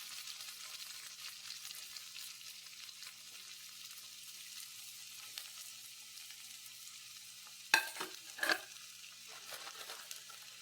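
Onion sizzling steadily in hot oil in a pan while cooking capsicum egg bonda, a soft continuous frying hiss with a couple of louder scraping stirs near the end.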